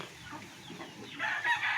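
Chickens clucking and squawking nearby on a small farm that also keeps ducks, a short burst of fowl calls that grows louder toward the end.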